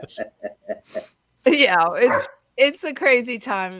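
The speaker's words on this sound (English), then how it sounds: "I'm sorry about my dog. She's just not behaving." A dog gives four short, rhythmic barks at moderate distance. A person then starts talking, and the barking stops.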